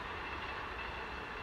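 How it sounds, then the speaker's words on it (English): A Virgin long-distance train passes on a line toward Gloucester and Bristol, heard as a faint, distant, steady rumble with no voices. "Oh, train, Virgin train."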